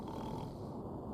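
Lister snores in his sleep in the dark sleeping quarters: one short, rough, low snore, close and alone.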